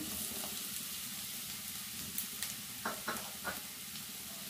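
Sweet corn kernels frying in a pan give a steady broadband sizzle, with a few louder spatters and stirring scrapes near the end, close up and alone with no talking.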